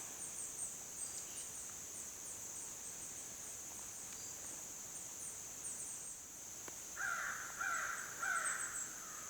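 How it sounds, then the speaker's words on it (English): American crows caw in repeated harsh calls, a cluster of three loud ones near the end standing out over a steady high insect drone and faint distant birds. "There's lots of crows."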